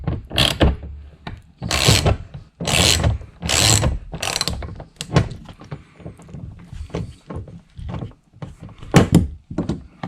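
A ratchet loosens a 10mm bolt on the door of a Nissan NV200 work van, with loud close bursts of rapid clicking broken by short pauses, alone without talk.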